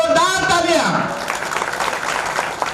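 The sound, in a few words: applause at a rally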